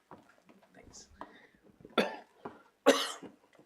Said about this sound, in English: Pardon me for my coughing.